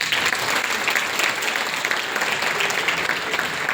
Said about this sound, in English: let's give our amazing testimony Cheryl another round of applause